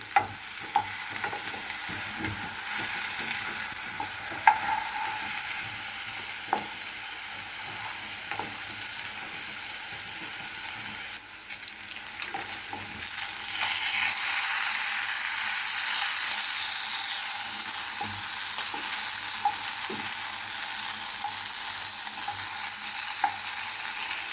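Koi fish sizzles steadily in a pan of oil for a sweet-sour-spicy dish, with a constant close crackle and occasional scraping clicks as the pieces are stirred and flipped.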